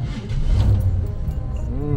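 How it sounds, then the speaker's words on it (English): A hot rod engine turns over and cranks, a rough, low mechanical churn running continuously and close by, with a voice talking over it. "let's see if she'll crank"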